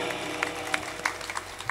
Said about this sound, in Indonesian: Tepuk tangan dulu dong buat Mbak Hedi.